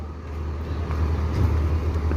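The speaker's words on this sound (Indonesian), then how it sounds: "Satu lagi masuk bus Parwis" A Parwis tour bus pulls into a busy intercity bus terminal, its low engine rumble steady and fairly close, rising slightly as it moves in, with general traffic noise around and no clear speech.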